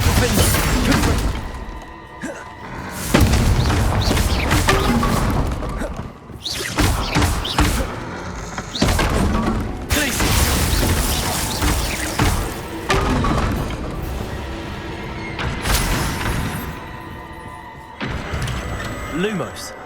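Repeated Confringo blasting-spell explosions in the video game Hogwarts Legacy, dense booms, crashes and shattering impacts filling a loud, busy combat mix with a voice speaking among them.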